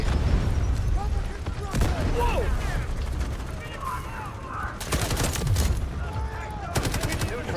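Gunfire in the military shooter game Delta Force: bursts of automatic fire crack out in several close, loud volleys over a rumbling battlefield background, with a player talking in between.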